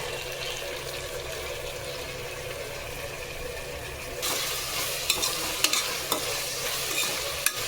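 Tomatoes sauté steadily in a hot pan, and midway the frying grows louder with a few sharp pops and crackles; no one speaks.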